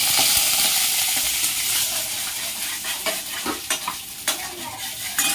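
Chana dal and curry leaves frying and being stirred in hot oil for rava kichadi, a steady close sizzle with scattered crackles and scraping stirs throughout, no talking.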